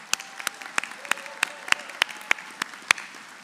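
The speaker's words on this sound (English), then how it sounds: "How about giving them a big round of applause?" Sparse applause for graduates at the Ivy Tech Madison, Indiana 2024 commencement: distinct, evenly spaced claps roughly three per second over a quiet room, faint murmuring underneath.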